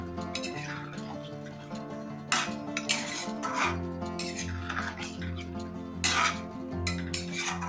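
Garam masala being mixed into chicken cooking in a pot, metal spoon scraping and clinking against the pot in uneven strokes over a low background hum, no speech.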